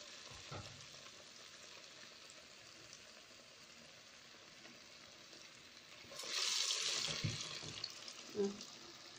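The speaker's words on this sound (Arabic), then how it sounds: "اللي هي عايمة على وش الزيت وما بتفكش مني." Falafel (taameya) fries in hot oil at home with a soft, steady sizzle. Around two-thirds of the way through, the bubbling swells into a louder hiss, and a brief clink follows near the end.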